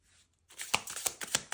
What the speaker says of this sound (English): I shuffled twice.